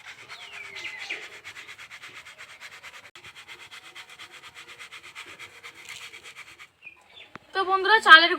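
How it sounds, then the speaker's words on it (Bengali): Ground rice flour is shaken through a sieve in a steady, raspy rhythmic rubbing, close and moderate. The sifting drops out briefly before a bird calls near the end. "এখানে আমি একটা চালনি নিয়েছি, এর মধ্যে চালগুলোকে তুলে নেব। এটাকে একটু ছেলে নিতে হবে।"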